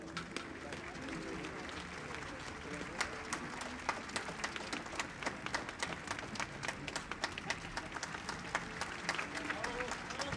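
Audience applause at a Christmas festival gala in San Javier, a steady dense clapping wash across the whole span with sharper individual claps standing out, crowd murmur and voices mixed in underneath.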